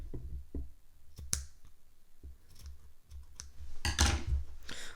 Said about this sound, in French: les 2 petits bouts de fil. On va les couper.